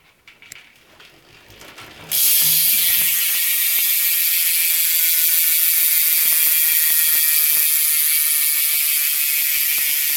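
BSD Backstreet cassette hub on a bicycle wheel with Primo spokes and a Fit Faff tyre, spun by hand: a loud, dense, continuous high-pitched buzzing ratchet that starts abruptly after a couple of seconds of quiet handling and holds steady, alone.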